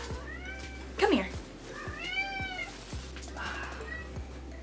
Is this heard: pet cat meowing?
yes